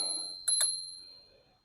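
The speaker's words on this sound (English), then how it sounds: "Got a bell." Two quick bright dings from the handlebar bell of a FanttikRide T9 Apex electric scooter, close and crisp with a short ringing decay.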